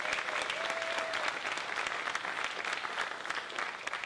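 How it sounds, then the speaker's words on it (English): A live audience applauds the jazz band at a women-in-jazz set in a black box venue, with dense, even clapping that holds steady for several seconds and a brief tone briefly sounding over it. "I want to give one more round of applause for our band"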